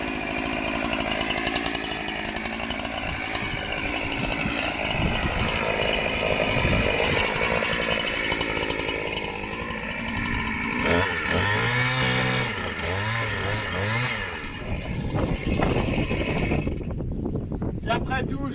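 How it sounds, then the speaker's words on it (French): Loud chainsaw engine revving and cutting through wood, with rising and falling motor pitch and occasional speech-like sounds mixed in. "la tronçonneuse"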